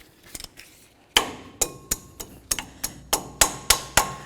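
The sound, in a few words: peening over a cotter pin on a ball joint nut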